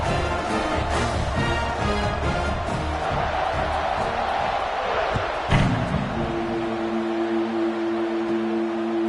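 A football stadium crowd roars and cheers after a scoring drive, a dense broad wash of many voices that stays high, then drops away as a steady tone comes in near the end.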